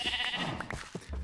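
Sheep bleating in a Minecraft-style video game, several short bleats in quick succession over steady game background sounds.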